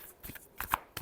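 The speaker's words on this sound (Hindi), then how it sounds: "Last shuffle." Tarot cards are shuffled at close range in a few quick, crisp riffling bursts separated by brief pauses, quiet and with no one speaking.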